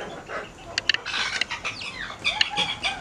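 Chickens and young chicks clucking and peeping in a poultry pen, a busy mix of short close calls and high chirps repeating throughout, fairly near and without talk.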